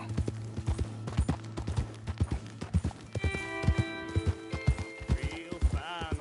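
Horse hooves clip-clop in a steady walking rhythm in the Red Dead Redemption 2 video game, fairly close and distinct, with a sustained tone and brief in-game voices and effects layered over the later beats.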